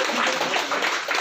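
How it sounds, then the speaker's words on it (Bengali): Audience applause at a GMIT tenth-anniversary celebration, a dense steady patter of many hands clapping together, moderately loud and continuous throughout. "জোরে হাত তালি, a huge round of applause for all the"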